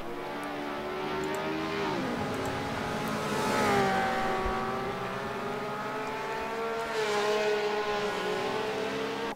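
Classic 1960s Formula One cars lap Monza through the Curva Grande in a sim racing game, one car in a Honda's slipstream. Loud, continuous high-pitched engine howl whose pitch bends and shifts through gear changes, with no voices.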